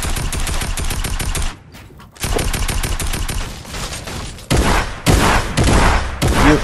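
Rapid bursts of drum gun fire in Fortnite, loud and close, with a short pause mid-clip before more sustained firing and heavy impacts.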